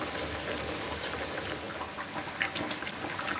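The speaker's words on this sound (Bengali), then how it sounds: "তেলটা গরম হয়ে গেছে আমি পিঠাটা দিয়ে দিচ্ছি মিডিয়াম জালে ভেজে নেব" Masala pitha, a spiced Bengali rice cake, fries in hot oil over medium heat, giving a faint, steady crackling sizzle with scattered pops and no talk.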